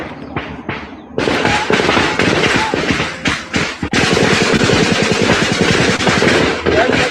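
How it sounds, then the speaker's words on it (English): Live gunfire from security forces firing on unarmed citizens in Uganda: dense, loud bursts of rapid shots, sparse at first, then near-continuous volleys that crackle on and on. "and bullets started flying"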